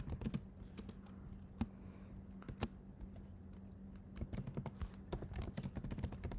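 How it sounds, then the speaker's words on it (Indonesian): Computer keyboard clicking as a terminal command is typed, quick uneven keystrokes with short pauses, close and fairly quiet over a low steady hum. "Lalu kita ketikkan php artisan"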